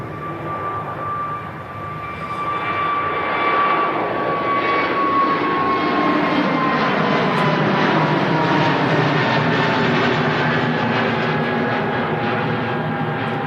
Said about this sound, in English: Heading off to Hurghada is the A320 Neo.